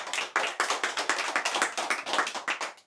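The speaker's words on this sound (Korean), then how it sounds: "뜨거운 박수로 한번 맞아주십시오." A small group claps to welcome a professor at a memorial walking-tour gathering, brisk uneven handclaps close by, loud and lively for a few seconds before tapering off, with no talk.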